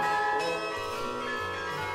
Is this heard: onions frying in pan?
no